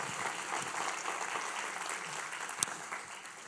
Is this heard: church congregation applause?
yes